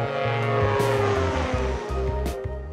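A French-built LH-10 Ellipse light aircraft flies by with a loud, continuous propeller-engine drone, its pitch stepping and wavering throughout, with no talk.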